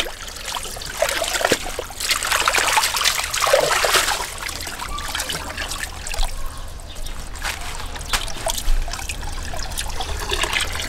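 Running water trickles and splashes steadily while grape leaves are washed, a close, continuous flow with uneven spattering and no talking.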